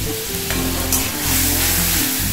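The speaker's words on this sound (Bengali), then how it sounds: "এবার এতে দিয়ে দেবো আমি টমেটো বাটার জলটা" Tomato seed paste mixed with water hits a hot frying pan for a Bengali katla fish curry, giving a loud, steady sizzle that fills the whole stretch with no talk over it.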